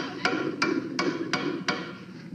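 Five sharp hammer strikes land at a steady pace, fairly close, with a quiet room murmur between them.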